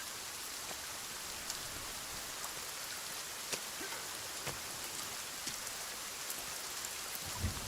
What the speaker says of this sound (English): It is downpouring out here